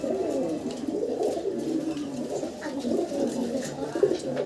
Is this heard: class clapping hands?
no